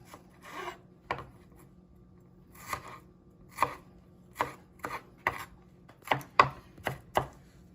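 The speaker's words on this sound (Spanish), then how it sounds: "Ahora voy a picar las fresas, el tamaño lo más pequeño que pueda." Knife chopping fresh strawberries into small pieces on a cutting board for a Valentine's Day cake, a string of sharp, separate chops at an uneven, unhurried pace, close and clear with no talk.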